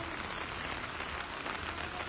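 Steady rain falls on a morning in Freetown, Sierra Leone, a faint, even hiss of drops with no pauses or talk.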